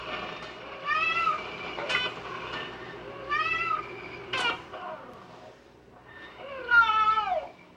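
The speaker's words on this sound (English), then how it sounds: "The meow is a composite call made of 2 different components." A domestic cat meows several times, each call a drawn-out, rising and falling cry separated by short pauses, heard close and clear with no talking.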